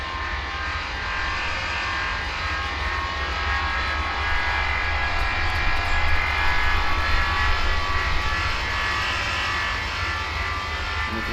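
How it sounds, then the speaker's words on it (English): Jet airliner engines spooling up on a takeoff roll in the Tower Simulator 3 airport game, a steady loud broadband roar with low rumble that holds even and continuous throughout. "And he's on that takeoff roll."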